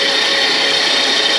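An electric mixer whisks egg whites into foam for a sponge cake, a steady high whirring drone, loud and close, unbroken for the whole moment.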